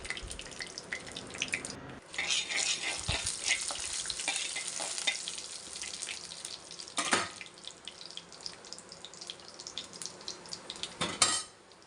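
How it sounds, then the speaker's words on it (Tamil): Loud, steady sizzling and crackling of dried chillies and curry leaves frying in hot oil, with occasional clinks of a utensil against the pan. "வரமிளகா கருவேப்பிலை சேர்த்து நல்லா பொரிய விட்டுடலாம்"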